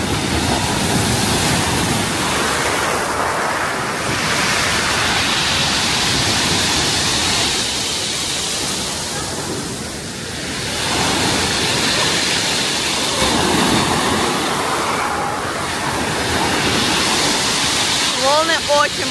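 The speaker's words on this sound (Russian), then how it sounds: "Сегодня очень большие волны." Large storm waves crash onto a beach in France under a warning flag, a loud continuous roar of surf swelling and easing in several surges, with faint voices in the background.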